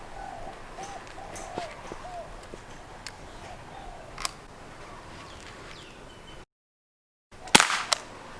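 A CO2-powered BB gun fires into five layers of thick paper, giving a sharp, loud report near the end after a stretch of quiet, with a few faint ticks and clicks scattered through the low background hiss beforehand.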